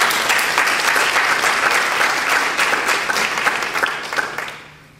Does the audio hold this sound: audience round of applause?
yes